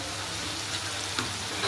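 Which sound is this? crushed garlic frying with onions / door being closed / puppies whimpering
crushed garlic frying with onions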